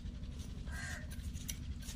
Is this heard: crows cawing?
yes